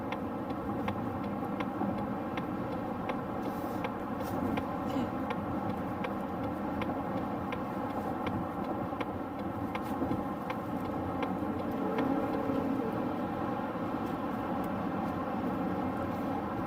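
Interior of a Mazda CX-50 cruising in sixth gear at about 70 mph, a steady low engine and road drone with a constant hum, moderate and unbroken throughout.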